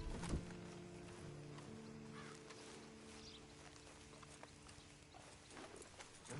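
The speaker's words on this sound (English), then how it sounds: "Then you better get on this horse." Horse hooves clip-clop in a steady walking rhythm in the video game Red Dead, moderately close, over a low ambient background with a faint tonal hum.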